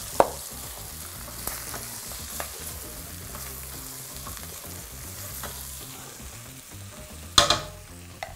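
Carrots and potatoes frying in a pot for young-cabbage parzucha stew, stirred steadily: a constant close sizzle with soft scraping, then a louder clatter near the end.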